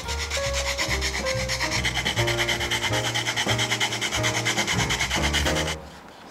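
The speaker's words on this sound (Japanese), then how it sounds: "これで1回ねこうやって合わせて削っちゃいましょう。" Two wooden pieces held together are sanded to equal size while making a DIY knife case for an Opinel folding knife, a steady rhythmic rasping of repeated strokes under background music, stopping near the end.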